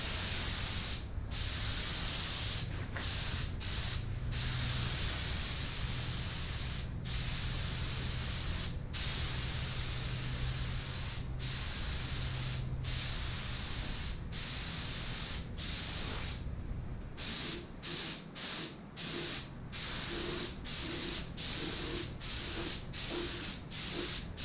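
An aerosol spray can hisses in repeated short bursts while painting the mirrors and a Berger panel for a fourth-generation Camaro 3.8L. The bursts are close and spaced at irregular intervals, with faint rubbing and handling noises between them.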